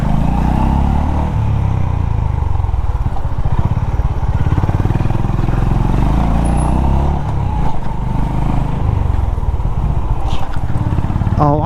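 A Honda H'ness CB350 motorcycle engine thrums steadily while riding, with wind rushing over the microphone and a rider talking over the noise.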